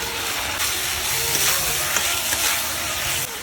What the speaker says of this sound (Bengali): এবার আলু দিয়ে মশলাটা কষাই নেব